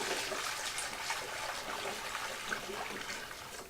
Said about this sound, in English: I have a bucket of sanitizer here, 2 gallons. We're going to put about a gallon in each side.